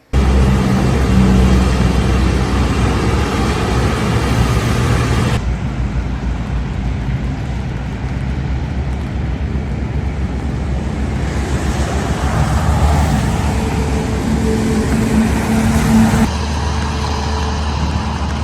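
Cars and heavier vehicles rolling past in a single controlled lane at a cracked bridge entrance, a continuous roadway rumble with swelling passes and gusty wind noise, no voices.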